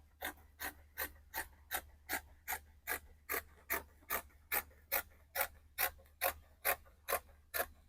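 Scissors cutting out dress fabric in steady, evenly spaced snips, about sixteen crisp rhythmic cuts close by, with a faint low hum underneath and no talking.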